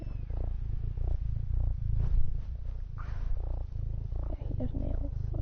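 A pet cat purring loudly and continuously up close, a steady low pulsing rumble, with a quiet voice speaking over it now and then.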